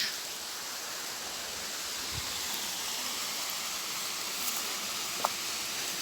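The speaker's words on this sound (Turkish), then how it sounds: "Ama önümüzde şu anda bir şelale var." A steady, broad rushing roar of Çiseli Waterfall in Ordu, Turkey, constant and enveloping, with a couple of faint clicks and no voices.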